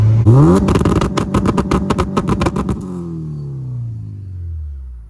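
A car with a V20 engine and VTEC head swap revs hard in a rapid series of sharp bursts close by, then settles into a lower idle that fades away.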